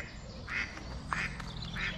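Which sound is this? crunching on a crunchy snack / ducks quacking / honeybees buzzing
ducks quacking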